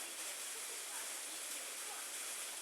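Rain falls in Minecraft as a steady, even hiss of soft noise, quiet and unbroken for a couple of seconds.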